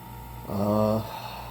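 A Vevor 260S vacuum sealer drawing air out of a bag of bacon, a steady droning hum with layered harmonic whine that swells for about half a second, then drops back to a low background murmur.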